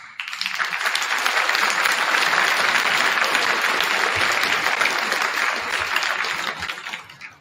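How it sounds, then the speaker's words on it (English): Dense audience applause fills a school Veterans Day assembly, a steady wash of clapping that holds loud for several seconds before tapering off at the end. "So again, we'll give them a round of applause."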